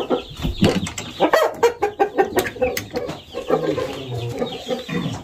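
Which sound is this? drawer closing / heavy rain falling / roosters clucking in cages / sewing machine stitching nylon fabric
roosters clucking in cages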